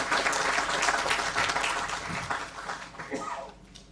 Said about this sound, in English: appreciate by giving a loud round of applause to all the faculty of the School of Maritime Studies